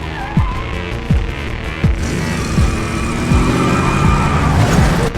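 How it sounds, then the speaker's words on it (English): A car in a thriller film scene surges forward and then reverses, its engine roaring with repeated sharp thumps and rising tire and engine swoops, loud and close with no talking. "A car suddenly accelerated straight at him."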